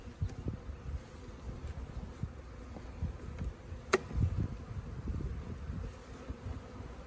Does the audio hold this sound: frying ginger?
no